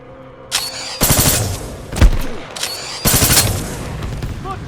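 Gunfire in the video game Titanfall 2: several loud, sharp bursts of shots arrive in separate clusters, some with booming impacts, and short gaps of quieter background fall between them.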